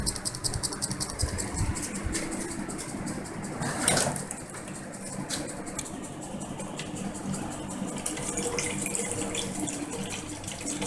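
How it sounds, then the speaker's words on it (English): An electric pump circulating flood coolant through a homemade coolant tank, a steady watery rush and trickle with a faint motor hum underneath, continuous and moderately close. "The pump is working."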